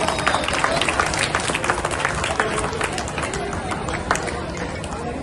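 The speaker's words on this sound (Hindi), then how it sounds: "जोरदार ताली।" An audience at a Ramleela performance in Mohali breaks into loud, sustained applause, a dense steady roar of many hands clapping with crowd voices mixed in.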